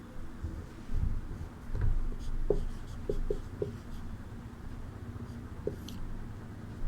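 Chalk or marker scratches and taps across a board in a classroom during a Hindi lesson: a series of short, soft strokes and clicks, fairly close, over a quiet room hum.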